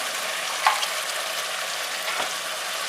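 Onion and cashew paste sautéing with chicken and tomato in a pan, a steady moderate sizzle with a couple of soft stirring scrapes and no talking.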